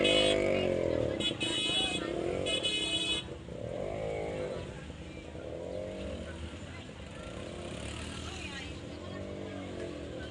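Motorcycle engine rumbling at close range while riding through the crowded Malabon Fish Market, steady and mid-loud, with street bustle and voices around.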